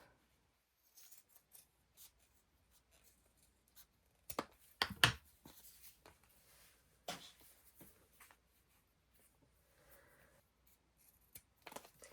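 Scissors cut through old jeans fabric, with a few crisp snips and a louder cluster of cutting in the middle, faint and close among soft handling rustles.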